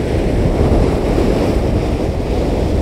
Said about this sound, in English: I can see every wave, every single wave, the depth of the water.